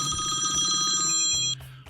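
A telephone bell rings in rapid trilling bursts for about a second and a half, loud and close, then cuts off abruptly.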